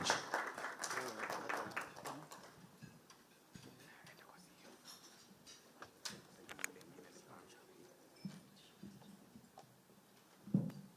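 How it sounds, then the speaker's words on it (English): Faint, distant audience clapping greets a woman walking onto stage at a Youth Connekt Africa partners meeting, thickest in the first few seconds and thinning to scattered claps and room murmur. "Let's give her a round of applause, ladies and gentlemen, as she comes on stage"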